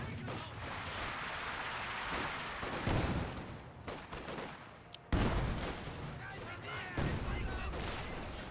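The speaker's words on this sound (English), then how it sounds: "Field gun bombarding his mortar" Field gun shelling an enemy mortar in Company of Heroes 2, a dense barrage of booming artillery blasts and crackling gunfire with repeated heavy impacts, a sharp loud hit near the middle, and a caster talking over the battle.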